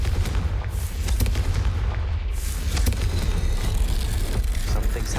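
A Confringo blasting spell goes off in the Hogwarts Legacy game, a loud rumbling explosion with booming, crackling bursts that fills the whole stretch over a heavy low-frequency roar.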